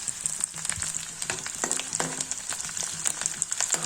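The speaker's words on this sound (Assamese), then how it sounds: "পিটিকি থোৱা ডাঙৰ আলুটো সেইখিনিও মই ভাজিছোঁ" A large smashed potato fries in hot oil in a kadai for spicy puri sabji, giving a close, crackling sizzle with irregular pops and spatters throughout, alone with no talk.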